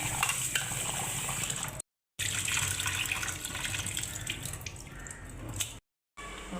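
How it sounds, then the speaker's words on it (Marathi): Water runs steadily from a tap with splashing and swishing as kolam rice grains are rinsed, broken by two brief silences. "तांदूळ धुवून तांदूळ धुवून घेतले"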